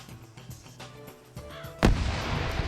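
A grenade blows up in the video game Arma 3, a sharp loud blast near the end following quieter distant gunfire and rumble, with the explosion's roar trailing off.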